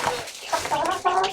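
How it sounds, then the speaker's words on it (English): A chicken of a rare breed clucks several times in quick, close succession, with bright squawky calls rising in the second half of the burst. "I've got this really rare chicken."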